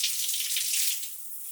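A rain shower head runs at full power with fairly weak pressure, a steady bright hiss of falling spray that fades a little toward the end, close and alone with no talking.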